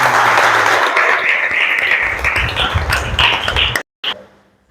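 A classroom gives a round of applause, a dense burst of many hands clapping together that fades and stops abruptly near the end, with voices under it.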